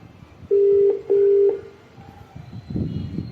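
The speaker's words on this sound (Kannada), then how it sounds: "ಅವನಿಗೆ ಫೋನ್ ಮಾಡ್ತೀನಿ" A telephone being dialed gives two long, steady electronic beeps in quick succession, followed by quiet background noise and faint rustling.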